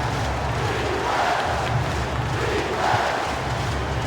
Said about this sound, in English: Bringing the crowd to its feet, Marv.